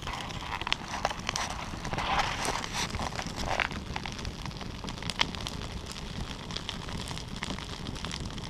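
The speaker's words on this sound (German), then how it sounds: "Okay, das Feuer brennt." A small campfire burns outdoors in the Swiss wilderness, giving a continuous close crackle with scattered sharp pops and snaps over a low, steady rush of flame and air.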